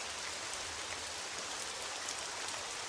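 Rain weather effect in the war strategy game Strategic Mind: The Pacific, a steady, even hiss of falling rain with soft patter, constant throughout with no talk.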